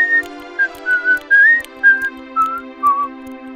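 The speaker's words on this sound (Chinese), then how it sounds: "一边吹着口哨。" A cartoon robot whistles a short, bright tune in separate phrases, clear and close over a soft background music bed.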